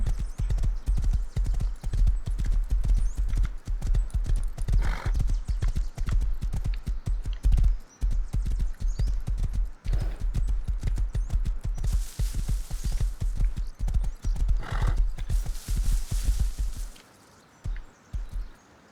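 A horse in the Rust video game gallops with rapid, loud, continuous hoofbeats close by, broken by a couple of brief pauses and bursts of rushing noise before stopping near the end.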